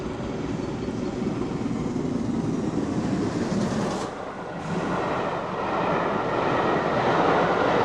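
City of Truro steam locomotive running on a British main line, a continuous rumbling roar of the passing train with clattering wheels, briefly dipping before swelling louder again.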